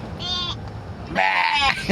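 A small child imitates a goat's bleat with two wavering, nasal voiced calls, the second longer and louder, with a quiet pause between them.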